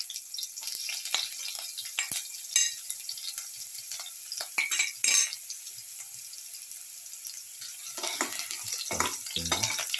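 Ginger fries in a pan with a soft, steady sizzle while a utensil stirs it, scraping and clinking in irregular bursts, with a louder clatter near the end and no voices.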